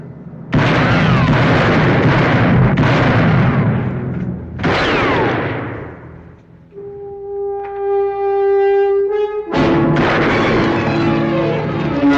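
Loud gunshots ring out in an old radio western drama, a burst of booming reports with echoing tails, followed by a held musical tone before another shot.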